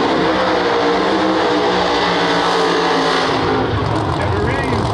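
A no-prep drag race car called the Yeti runs at a No Prep Kings event, its loud, sustained engine roar filling the air while an announcer talks over it.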